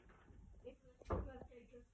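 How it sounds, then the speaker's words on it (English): A single muffled knock lands on a door, short and fairly faint, set against a quiet indoor background. "Oh, it's a knock."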